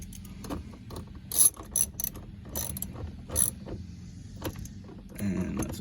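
A ratchet wrench clicks in quick, uneven bursts, close up, tightening bolts on a trim panel of a Nissan Titan, Armada or Infiniti QX56, with handling knocks between strokes.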